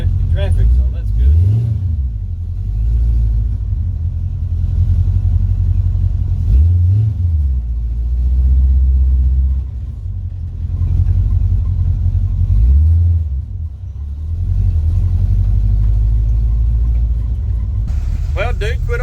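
A struggling car engine, apparently flooded, cranks and catches in repeated bursts, revving unevenly and then settling into a loud, rough idle close by, with talk over it.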